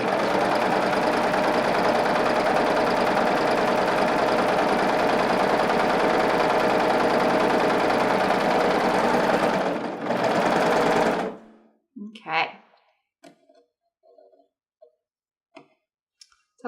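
A serger sews gathers into fabric with a loud, steady, rapid mechanical whir lasting about eleven seconds, then stops abruptly, leaving faint handling clicks and rustles.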